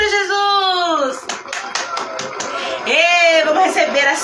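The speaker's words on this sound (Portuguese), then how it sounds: "Palmas para Jesus." An audience claps in a short burst at a live Women's Day church radio program, with someone speaking just before and just after the applause.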